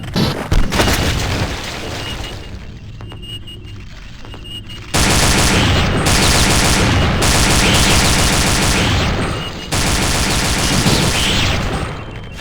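Automated sentry turret in the Doom 2 mod Aliens: Eradication firing down a hallway, loud sustained rapid gunfire in long continuous bursts with short breaks between.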